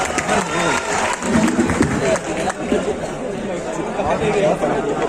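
An audience at a Hindi-Urdu comedy mushaira in Bhiwandi applauds, a dense wash of clapping and crowd chatter that swells and eases over several seconds.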